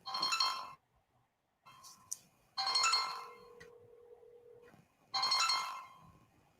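A phone ringtone plays while a call is being placed, sounding as three bright repeated melodic bursts separated by short gaps, clear and moderately loud with no talking over it.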